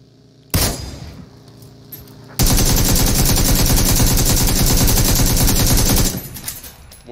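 A sustained burst of rapid automatic gunfire rattles loudly for several seconds in PUBG as a vehicle's tire is shot, preceded by a single sharp shot and trailing off into quieter game ambience.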